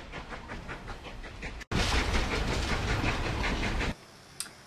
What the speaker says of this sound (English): Railroads are a much faster way of travel. So forget those horses and buy yourself a train ticket.